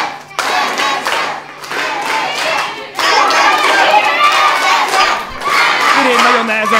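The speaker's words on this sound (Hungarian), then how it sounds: "A közönség nagyon bátorítja." A wrestling crowd at a Hungarian underground wrestling final cheers and shouts encouragement to a wrestler, a loud, dense roar of many voices that dips briefly and then swells again near the end.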